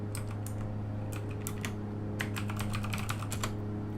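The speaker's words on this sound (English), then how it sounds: "Don't mind my typing." Someone types on a computer keyboard during a Prepar3d flight simulator session. Quick bursts of key clicks fall in irregular clusters, close and fairly clear, over a steady low electronic hum, and no one speaks.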